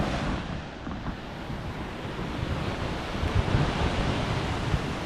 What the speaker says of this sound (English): Fresh water is just gushing out of the mountains.